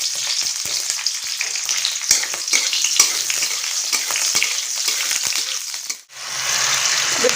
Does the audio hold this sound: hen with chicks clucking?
no